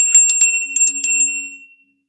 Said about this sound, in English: We're going to ring the bell here